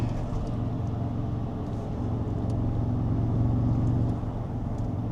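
Low, steady engine drone from a Toyota Tundra pickup heard from the cabin while driving, a rumbling hum that swells slightly as the revs rise, then eases off.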